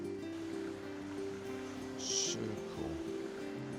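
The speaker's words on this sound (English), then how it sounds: "They pipe in fresh water from the mountain stream" Fresh mountain stream water piped into a fish farm makes a steady, moderately loud rush of flowing water with a low hum beneath, while a brief voice speaks over it.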